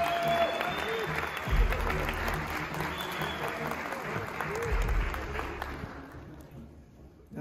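An audience at a business seminar applauds a speaker being welcomed, a moderate, steady round of clapping with some low thumps that gradually fades away toward the end.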